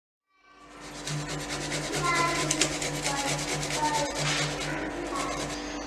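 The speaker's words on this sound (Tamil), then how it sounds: "நல்லா வாழைக்காயை திருவிக்கிட்டோம்" Boiled plantain rubbed against a grater in quick, steady back-and-forth scrapes, fairly close and continuous, with a faint repeating tone running beneath.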